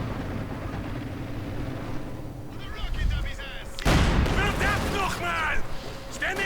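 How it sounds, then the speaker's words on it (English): Field gun barrage fired at point blank range in Company of Heroes 2 during a 2v2 match, a sudden heavy blast followed by crackling bursts and whistling debris, loud and close amid continuous battle noise. "point blank field gun barrage"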